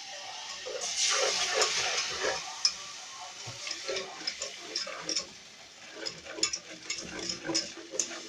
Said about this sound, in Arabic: هنزل عليه بقى باللبن